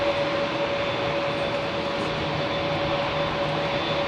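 Airliner jet engines roar steadily at London Heathrow Airport, a loud continuous broadband rush with a constant tonal whine running through it.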